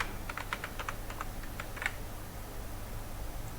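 Someone types on a computer keyboard while editing text in Microsoft Excel, giving a quick run of light, close clicks for about two seconds, then steady low room hiss with no more keystrokes.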